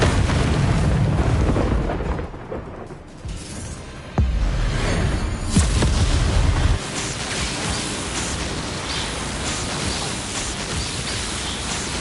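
A Confringo explosive spell blast in Hogwarts Legacy, a loud booming burst that swells into a rumbling, roaring wash with further surges of blast noise and no talk.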